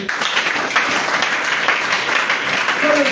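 A church congregation applauds during a worship service, a dense, sustained wash of clapping that fills the room with steady loudness for the whole stretch.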